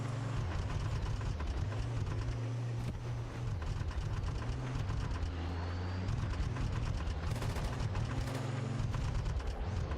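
Continuous tank combat from a multicrew tank video game: dense rapid gunfire with heavy cannon reports and a steady low engine rumble running throughout, loud and unbroken.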